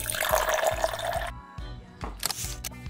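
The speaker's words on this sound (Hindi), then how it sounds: "तो चाय फटाफट से बने पहले, तो अपन अब यहाँ पे चाय को छान ले रहे हैं।" Hot chai strained through a sieve, a liquid pour and trickle that stops for a moment and then resumes, with steady rhythmic thumping beneath it.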